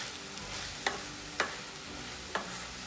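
Red and green cabbage with mushrooms stir-fried in a wok over a high flame: a constant close sizzle with three sharp scraping clanks of the spatula spaced across the stirring.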